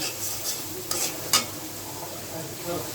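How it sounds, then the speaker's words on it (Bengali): Spices (turmeric, chili and salt) for a pomfret fish curry are stirred and fried in hot oil in a pan: a steady close sizzle with scraping stir strokes and a couple of sharper clinks, no voices. "এখন আমি নাড়াচাড়া করে নিই। মশলাগুলো একটু ভালোভাবে কষিয়ে নিব।"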